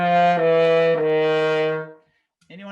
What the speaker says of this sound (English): Don't just let everything go floppy and fall down an octave.